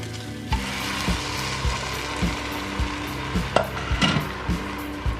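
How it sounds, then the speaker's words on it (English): Rice for a seafood risotto being stirred in fish stock in a pan, a soft sizzle and bubble with steady scraping strokes of the spoon repeating about every half second, close and moderately quiet. "And you just wanna keep stirring."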